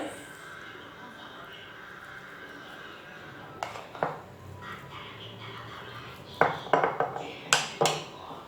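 Batter poured and scraped into a mixer grinder jar for Kerala muttapathiri, with sharp metallic clinks and taps of a utensil against the jar clustered in the second half, over a low kitchen background.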